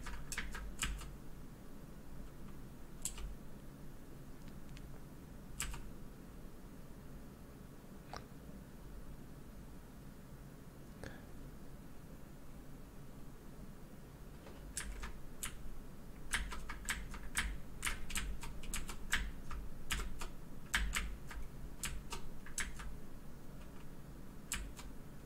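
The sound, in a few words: computer keyboard keys pressed while playing a racing game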